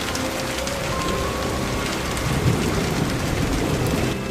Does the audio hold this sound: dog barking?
no